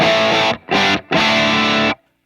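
Crunchy electric guitar chords through a Mesa Boogie Mark VII amp in crunch mode with low gain strike three times, gritty and loud, the last held before cutting to silence.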